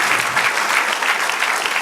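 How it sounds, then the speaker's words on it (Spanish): A church congregation bursts into loud, dense applause during a sermon, many hands clapping close and steady throughout, with faint voices mixed in. "Dar un aplauso al Señor."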